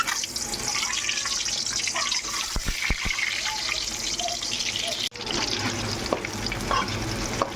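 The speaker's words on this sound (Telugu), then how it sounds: "గుడ్లు మొత్తము ఇలాగా వేయించుకోవాలి" Boiled eggs fry in hot oil in a kadai for a tomato egg curry, a steady broadband sizzle running throughout with a few sharp utensil knocks near the middle and a brief dropout before the frying resumes.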